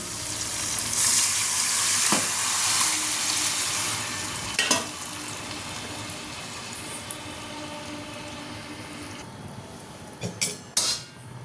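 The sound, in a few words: pouring tamarind extract into a hot pan for fish curry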